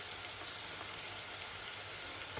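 Onion with cardamom and cinnamon fries in ghee as a steady, faint, even sizzle with no voices.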